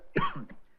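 One short, close cough with a throaty rasp, given by a patient complaining of a cough at a doctor's clinic.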